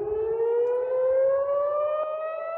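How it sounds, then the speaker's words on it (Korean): A civil defense air raid siren wails steadily during a night missile attack, its single rising tone loud and continuous with no break, and no voices over it. "깜깜한 하늘을 가르듯 미사일이 잇따라 날아오르자 사이렌 소리가 요란하게 울려"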